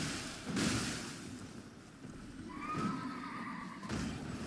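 A Night's Cavalry horse in the Elden Ring video game gives a drawn-out neigh over a windy outdoor background, with a few heavy thuds of hooves or impacts spaced through it.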